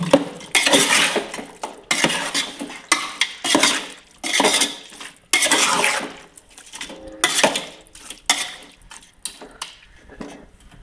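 Chicken being stirred with masala in a pot for biryani: repeated bursts of a metal spoon scraping and clanking against the pot in an uneven rhythm, close and fairly loud, with brief pauses between strokes.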